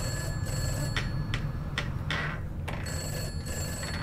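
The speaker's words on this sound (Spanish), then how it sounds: "Pero qué teléfono suena en un lugar donde no hay ni luz ya." A telephone rings in an abandoned, unlit building in the video game Summer 58, with repeated electronic ring bursts at a steady rhythm over a low background hum.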